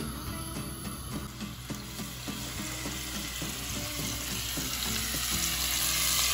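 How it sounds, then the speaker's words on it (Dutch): Steady sizzling of beef searing in olive oil in a large stew pot, loud and close, with a constant crackle running throughout. "De rundvlees bakken we even een paar minuutjes aan elke kant, zodat het even aangebraden is."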